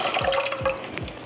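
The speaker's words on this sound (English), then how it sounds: "We're just gonna go ahead and pour this mixture into our saucepan." Honey garlic sauce mixture poured into a saucepan, a close, steady liquid stream with gurgling glugs, heard alone.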